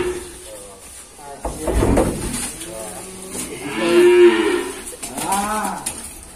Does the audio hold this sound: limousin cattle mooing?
yes